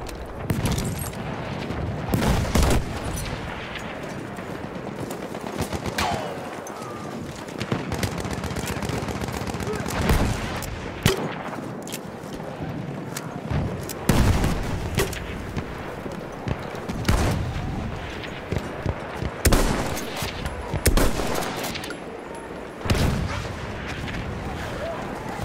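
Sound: enemy machine gun firing in the video game Battlefield 1

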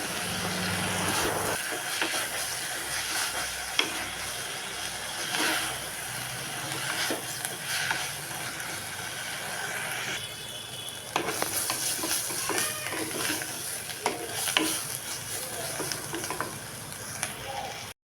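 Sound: stirring drumstick leaves (moringa greens) frying in a pan

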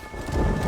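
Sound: thunderstorm in the video game Red Dead Redemption

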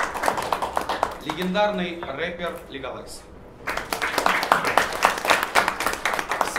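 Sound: audience applause

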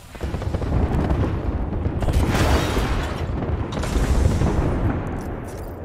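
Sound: airstrike explosions in the video game Apex Legends

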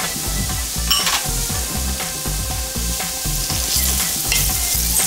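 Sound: onion and garlic frying in a pan

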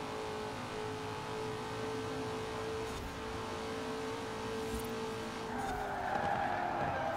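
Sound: car tires skidding in Forza Horizon 4 video game

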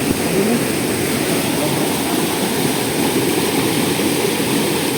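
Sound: waterfall

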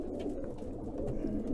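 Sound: pigeons cooing in a loft

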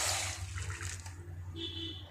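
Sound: water being poured into a pan with oats

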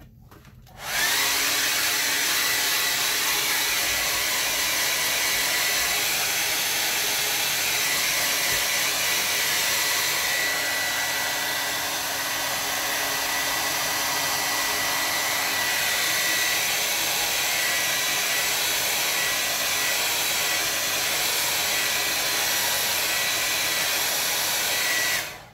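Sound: hair dryer drying watercolor painting

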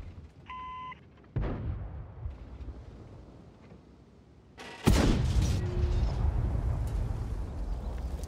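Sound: tank gun firing at bushes in video game World of Tanks

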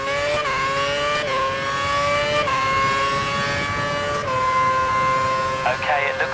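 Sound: race car engine at full revs in F1 2011 video game

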